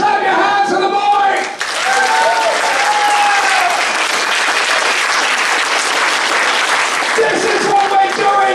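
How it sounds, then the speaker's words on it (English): Loud, sustained applause from a live comedy-show audience fills the room continuously, with a brief dip before the clapping swells, while a voice talks over the start. "Clap your hands for the boy!"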